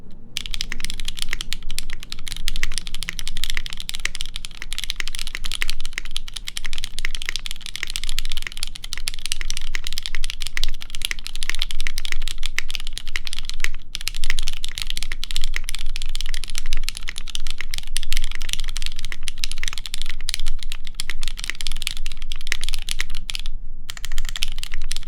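Continuous steady typing on a Keycult 1/65 mechanical keyboard with a polycarbonate half plate, dense close-up keystrokes with a fairly deep tone, running alone without pauses.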